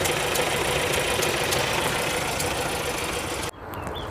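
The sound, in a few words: 1967 Audi 80 Variant engine running quietly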